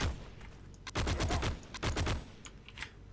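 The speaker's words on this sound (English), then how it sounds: "He's shooting at us as well." Gunfire in the World War II shooter Heroes and Generals: dense bursts of rapid automatic shots crack in close succession with short pauses between volleys, followed by a few scattered, fainter single shots toward the end.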